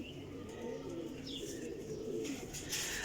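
Old-breed pigeons, black-spotted and chipped, coo softly and repeatedly up close in a loft, with faint chirps and rustling around them and no talk.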